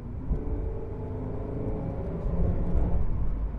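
A 2001 Holden VU Ute with the entry-level 3.8 engine accelerates hard on kickdown, a steady low rumble and drone that swells toward the end, heard from inside the cab with no talking.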